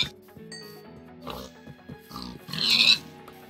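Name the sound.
pigs oinking in Minecraft video game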